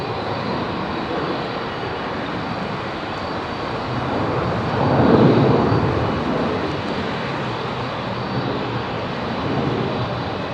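An airliner's jet engines roar at a distance during a go-around at London Heathrow, a broad steady rumble that swells briefly near the middle.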